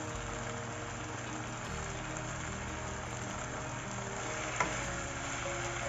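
Spareribs stir-fry with kaisoi and bell peppers in a pan, giving a soft, continuous sizzle under a steady low hum, with one brief clink partway through.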